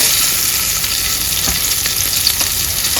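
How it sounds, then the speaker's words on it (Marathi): Nivate fish fry in a pan on a fairly high flame, a loud, dense, steady sizzle with crackling spatter and faint stirring touches, close up and without speech. "मस्तपैकी आपले न्यूटे फ्राय रेडी झाले"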